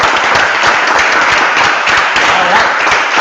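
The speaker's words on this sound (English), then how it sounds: "let's give a round of applause for Italo." Audience applause for a student's senior final presentation, dense steady clapping from a room full of people at close range, sustained evenly throughout.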